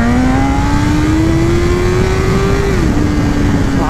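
BMW S1000RR motorcycle ridden without an exhaust: the engine drones loud and close with a strained, rising tone that holds steady and then drops briefly as the revs change, with no voices.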